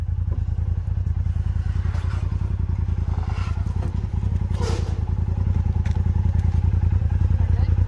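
Off-road motorcycle idling and pulling away under light throttle, a steady close low engine drone with rapid pulsing and little rise in pitch, some faint clatter and a brief voice over it.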